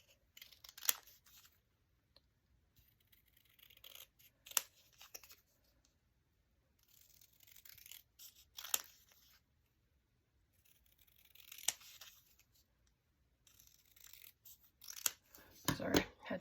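Scissors trimming out small paper images for crafting ephemera: quiet snips and paper rustles come in separate bursts with pauses between them, and soft talk can be heard in places.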